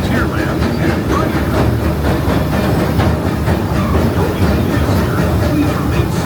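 The Disneyland Railroad train running on its rails, a steady rumbling roll with faint rhythmic clacking throughout, loud and close as if heard from aboard.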